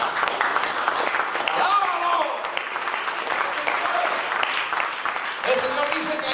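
A church congregation applauds steadily throughout, a dense wash of clapping from a crowd, with scattered voices and cheers rising through it near the end.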